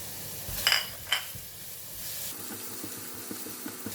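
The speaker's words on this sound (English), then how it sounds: "We'll fry the garlic until turn brown, and then we'll remove it out from the pan." Garlic frying in hot oil in a pan for stir-fried French beans with dried shrimp: a steady soft sizzle, with a couple of sharp clinks of utensil against pan early on and light stirring scrapes.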